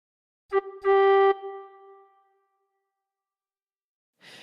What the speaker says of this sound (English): cover holes 1 to 2 with fingers 1 to 2 and blow gently twice